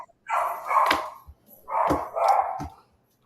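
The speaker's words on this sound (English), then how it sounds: "Sorry that the dog barking just." A dog barks somewhere near someone on a call: two pairs of barks, each a couple of close, loud woofs, separated by a short pause and heard alone without speech.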